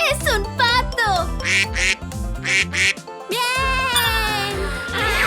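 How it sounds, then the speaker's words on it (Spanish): Cartoon-style duck quacks in a children's song about colors and animals, repeated in a bouncy rhythm over a loud musical backing with a singing voice. "¡Es un pato!"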